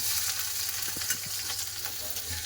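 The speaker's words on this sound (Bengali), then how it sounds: "পেঁয়াজটাকে একটু ভালো করে ভেজে নেবো।" Chopped onion with green chili and bay leaf frying in hot oil for a Bengali lentil dal, a steady bright sizzle with a few soft stirring knocks, heard alone.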